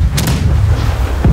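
Ship cannons fire in the naval combat game Blackwake, two sharp booming blasts close together near the start followed by a rumbling low tail and another thump near the end.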